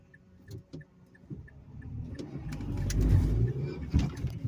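A manual-transmission car pulls away in first gear during a stick-shift driving lesson, its engine note swelling steadily as it revs up and accelerates, with a few light clicks and knocks from the cabin.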